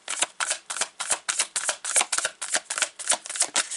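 A deck of tarot cards is riffled and shuffled in a steady run of about a dozen crisp, papery bursts, close and clear with no voice.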